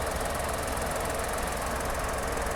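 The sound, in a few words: Maruti Alto K10 engine idling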